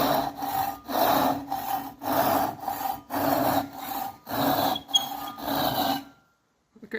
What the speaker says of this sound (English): I'm going to do a rip cut down to this line here